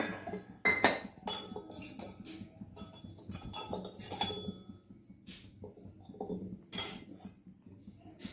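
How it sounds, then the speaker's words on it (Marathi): A metal sieve being oiled before steaming coriander vadi, with light clinks and metallic taps of the sieve and utensils scattered irregularly, close and fairly quiet. "आता चाळणीला आपण तेल लावू"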